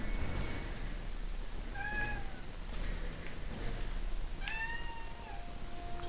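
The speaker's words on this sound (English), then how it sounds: "Did you hear that meowing noise? It's just my cat." A pet cat meows several times indoors, short rising-and-falling cries spaced a second or two apart over a steady background hiss.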